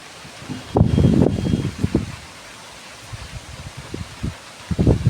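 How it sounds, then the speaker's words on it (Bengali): Storm gusts shake a flowering mango tree, its leaves rustling in loud bursts that rise and fall, strongest at the start and end, with no talking. "পুরো বউলগুলো মনে হচ্ছে সব ঝরে পড়ে যাবে হাওয়াতে, এত নড়ছে দেখুন।"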